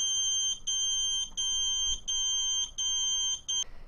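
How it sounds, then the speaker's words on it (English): A loud electronic buzzer on an armed Taranis Q X7 radio transmitter beeps in long, steady tones broken by brief gaps, repeating about seven times with no voices. "My buzzer was going off because I had it armed."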